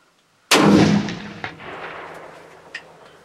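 A single loud rifle shot fired at a deer during a hunt cracks sharply, then rolls away in a long, fading echo across open country, with a couple of faint distant thumps trailing after.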